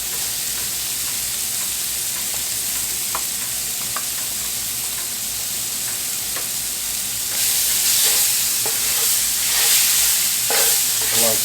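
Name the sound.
garlic sizzling in a pan with pork steak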